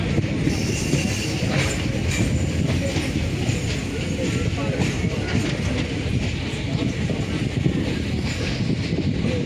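A heavy, steady rail rumble with rapid wheel clatter and metallic grinding runs throughout at an even, loud level, from the Ratnachal superfast express train.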